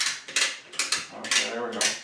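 A ratchet worked by hand to tighten a tie-down during a house move: a handful of sharp, close clicking bursts in a quick, uneven rhythm, with faint voices in the background.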